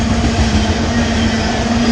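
A long freight train rolls past close by, its loud, steady rumble and rail noise filling the whole stretch without a break, a faint clickety-clack running through it and no voices.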